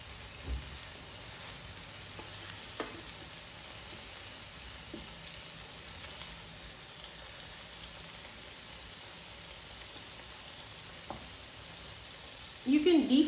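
Paneer pan-frying on a medium flame for kadai paneer gives a faint, steady sizzle with a few soft clinks, then a louder burst of sizzling near the end.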